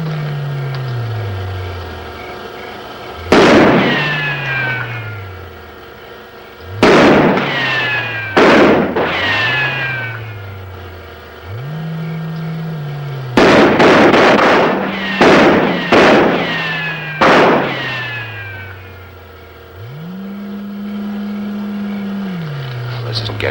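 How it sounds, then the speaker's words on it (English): Soldiers firing rifle rounds in a 1950s film scene, a series of sharp, loud cracks in irregular bursts over a steady engine-like drone that rises and falls in pitch. "Fire a few rounds."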